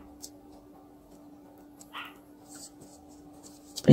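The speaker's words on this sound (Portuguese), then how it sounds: "Se você estiver escutando o latido de cachorro, tá, gente? Da rua, tá latido." A dog barks out on the street, faint and distant, with a few brief barks in an otherwise quiet room.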